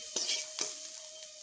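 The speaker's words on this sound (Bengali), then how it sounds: "পেঁয়াজগুলোকে একটু বেশ এইভাবে ভেজে নেব" Onions frying in a pan until reddish, a soft steady sizzle with two quick stirring scrapes and a faint thin hum, quiet and close.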